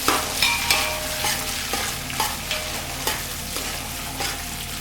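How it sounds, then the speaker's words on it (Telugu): Boiled mutton with green chillies sizzles in a frying pan while a utensil stirs it, producing a steady fry hiss punctuated by regular scraping strokes every half second or so, close and moderately loud. "ఒకసారి కలుపుతున్నా."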